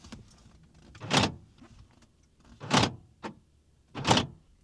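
Door locks on a BMW E53 X5 actuating inside the cabin: three solid mechanical clunks spaced about a second and a half apart, each with a short thud, heard alone with no talking.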